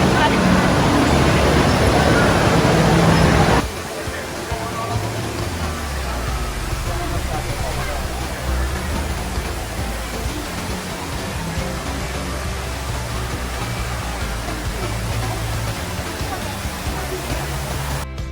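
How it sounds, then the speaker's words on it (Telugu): Steady broadband roar of the indoor waterfall at Jewel Changi Airport in Singapore, loud at first, then dropping to a softer, continuous wash with a faint murmur of crowd in the large indoor space. "లెవెల్ 1కి వెళ్ళి ఒక్కసారి లైటింగ్లో వాటర్ ఫాల్ వ్యూ అంతా కూడా చూసి వచ్చేద్దామా"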